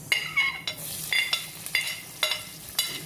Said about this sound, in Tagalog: haluin muna natin ito para po pantayin at pagka-brown ng ating bawang